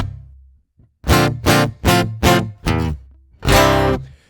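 PRS hollowbody guitar through its piezo pickup, dry with all Kemper effects off: a quiet note, then five sharp, close strummed chords in a rhythmic sequence, the last one ringing longer; no talking.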